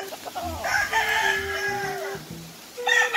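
A rooster, one of the birds moulting over a three-month period, gives a full crow close by, its long rising and falling call cutting off before a fresh burst begins at the end, with soft clucking underneath.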